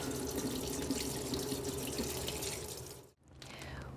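Cold water runs from a kitchen tap as leafy produce is rinsed beneath it: a steady splashing hiss, close and continuous, briefly breaking off near the end before resuming.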